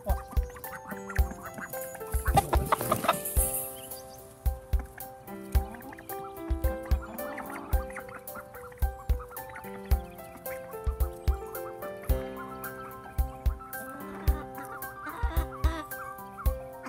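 Backyard chickens clucking alongside ducks, a run of short sharp clucks and calls repeating at an uneven rhythm throughout, close and fairly loud with a busy burst of flapping or scuffling early on.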